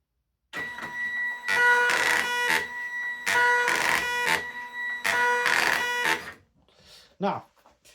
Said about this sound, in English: we should see a flashing data light and it'll start printing.